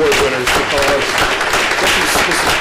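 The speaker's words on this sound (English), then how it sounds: "please join me in applauding and congratulating all of the award winners" Audience applause for award winners at an innovation showcase session, a dense, steady patter of many hands clapping throughout.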